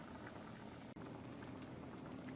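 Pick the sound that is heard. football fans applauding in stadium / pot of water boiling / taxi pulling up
pot of water boiling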